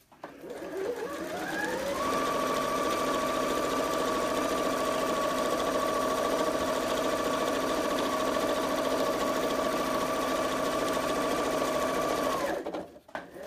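A sewing machine runs in one long steady burst of stitching on an advent calendar, starting up, holding an even whirring drone for about ten seconds, then stopping abruptly, close and loud with no talking.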